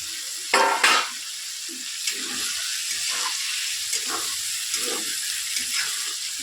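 Beef pieces sizzle steadily in hot frying oil with a constant hiss, broken by a few louder spits and stirring clatters near the start.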